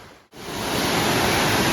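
Water rushing along a rocky village stream (vahal) below a waterfall, where festival Ganesh idols are immersed; a steady, loud broadband wash that continues without pause after a brief dropout near the start.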